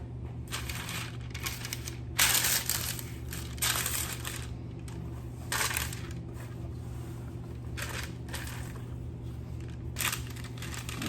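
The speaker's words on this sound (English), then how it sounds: "Going to put a little piece of parchment on there." Parchment paper crinkles and rustles against a baking tray in a kitchen, a series of crisp, close bursts of crumpling spaced across a steady low background hum.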